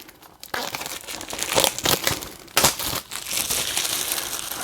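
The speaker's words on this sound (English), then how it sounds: "Actually, let's open it up. Get some of this glare off from the wrap, the paper wrap." A paper wrap is peeled and crumpled off a limited edition horror Blu-ray case, giving a loud, close, continuous crinkling and rustling with a few sharper tearing bursts and no speech.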